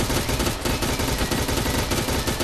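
Rapid bursts of gunfire from a shooting video game rattle densely and loudly throughout, with no speech.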